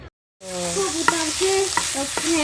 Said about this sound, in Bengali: শাক ভাজা হচ্ছে